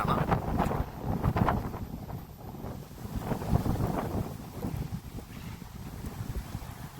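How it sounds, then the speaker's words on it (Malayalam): Strong wind buffets the microphone at a hilltop viewpoint overlooking a distant wind farm during the rainy season, a steady loud roar with gusting surges throughout and no other clear sounds. "അതിശക്തമായ കാറ്റ് വീശിക്കൊണ്ടിരിക്കുകയാണ്."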